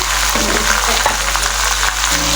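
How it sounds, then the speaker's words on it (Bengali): Beef sizzles in a hot pan with fried onions while a utensil scrapes and stirs it in a few uneven strokes, close and steady, with no voices. "গোস্তটাকে একটু নেড়ে চেড়ে ভালোভাবে"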